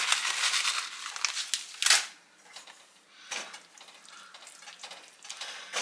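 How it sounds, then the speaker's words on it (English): A spoon stirs a pot of sauce with nutmeg and Parmesan cheese, giving soft scraping, clinking and wet rustling strokes in irregular bursts, fairly quiet and close with no talking. "Gonna give that a good stir"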